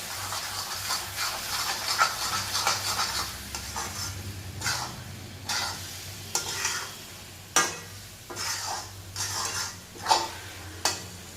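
Garlic pickle with jaggery simmering and frying in oil, a soft continuous sizzle broken by repeated scraping strokes of a spoon stirring the pan, close and unhurried, no voices.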